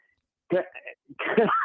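A short cough over a muffled telephone line, then a longer rough burst, with brief voice sounds between them.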